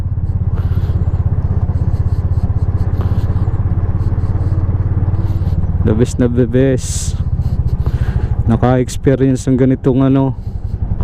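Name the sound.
Bajaj RE 200 motorcycle engine running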